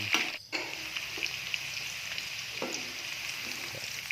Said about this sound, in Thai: ทอดหมูแดดเดียวนะครับ